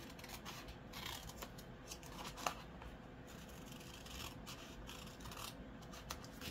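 Scissors cutting along a plastic diamond painting bag, a continuous close, soft snipping and rustling with a faint click partway through.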